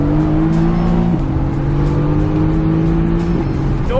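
Mercedes-AMG GT S engine pulling hard under acceleration, a loud steady drone with gear-shift steps in pitch, heard from inside the car with no talking.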